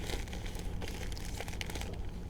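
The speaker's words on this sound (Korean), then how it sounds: "비닐팩에 넣어서 이렇게 조여줍니다." A plastic bag crinkles and rustles up close as it is packed and tied off during a backpacking trip, with dense irregular crackles over about two seconds.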